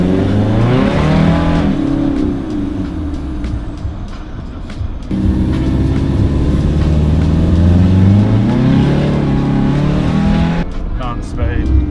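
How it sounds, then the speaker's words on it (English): Toyota Hilux drag build out for a road drive, its engine revving and rising through gears with loud, close cabin rumble and changing pitch, with a voice talking over it. "Let's go take it for a spin and see how she drives"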